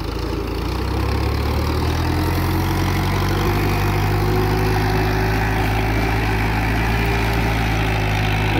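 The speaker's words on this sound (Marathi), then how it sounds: "एवढं ओल्ड मॉडेल असूनही त्याची फायरिंग ऑर्डर एकदम चांगली आहे।" An old-model Mahindra Sarpanch 475 DI tractor engine runs in high first gear, giving a loud, close, steady diesel drone with an even firing rhythm and no talk over it.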